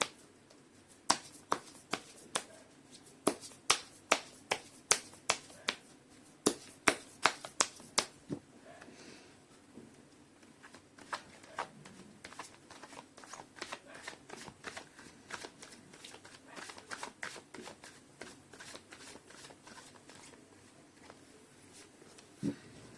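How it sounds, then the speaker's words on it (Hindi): Tarot cards shuffled by hand in a quiet room, with a rapid series of crisp riffling snaps, loud and evenly spaced at first, then faster, softer flutters continuing for a long stretch, close up and alone. "मैं कर लेती हूँ कार्ड की शफलिंग।"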